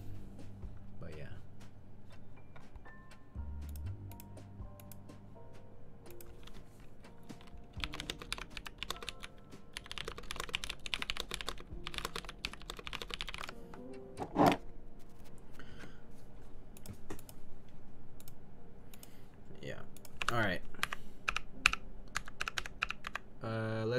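Fast, continuous clacking of keystrokes on a custom camo Filco mechanical keyboard, close and crisp with irregular bursts and a few louder strikes, while a person talks intermittently over the typing.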